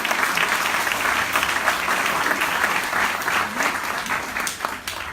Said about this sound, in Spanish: Agradecemos con un fuerte aplauso al padre.